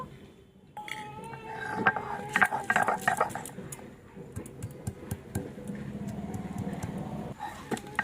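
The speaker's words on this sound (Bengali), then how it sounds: "তো দেখো আমি এখন আদা রসুনটাকে বেটে নিচ্ছি" Ginger and garlic are ground into a paste, producing irregular scraping and clattering bursts with sharp knocks, fairly close and moderately loud, with no talking.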